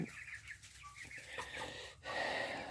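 Several chickens, including roosters, cluck and chatter close by in a continuous, overlapping jumble of short calls.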